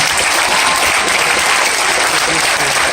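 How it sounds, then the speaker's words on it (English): Dense, loud audience applause at a Papa Roach and Korn gathering on the Shiprocked 2019 cruise, a steady wash of clapping that fills the whole moment without a break. "This applause is for Jacoby"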